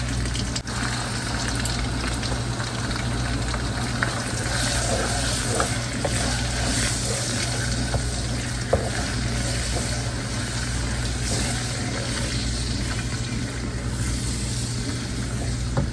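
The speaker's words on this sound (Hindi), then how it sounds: "इन दोनों को 1 मिनट के लिए सॉटे करके इसमें हम अपना क्रश टमाटो ऐड कर देंगे" Onions and crushed tomato sauté in a pan for chicken karahi, making a constant loud sizzling hiss with faint stirring scrapes underneath and an occasional pop, with no one speaking.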